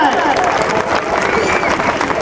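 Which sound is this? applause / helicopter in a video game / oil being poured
applause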